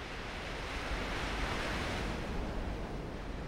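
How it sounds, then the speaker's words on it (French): Steady roar of Atlantic Ocean surf in the Bahamas with a constant broadband wash, waves breaking continuously against a steep rock cliff, with some wind in the background. "Une falaise escarpée battue par les vagues de l'océan Atlantique."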